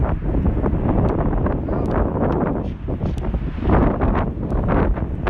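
Steady, loud wind buffeting the microphone, a continuous rumbling roar with gusts rising and falling throughout and no voices.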